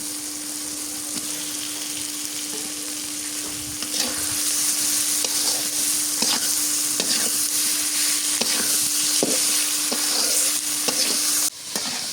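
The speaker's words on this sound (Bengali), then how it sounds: "এখন চিংড়ি মাছ দিয়ে ভালো করে কষানো করে নিই" Prawns are stir-fried in a pan in the koshano style, with a loud, steady sizzle and irregular scraping and clinking of a spatula that grows busier partway through, ending on an abrupt clatter, with no voices.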